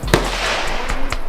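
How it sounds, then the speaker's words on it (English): AR-15 rifle shots fired outdoors: two or three sharp, loud cracks spaced roughly a second apart over a steady noisy background. "Oh yeah, that's how you shoot it."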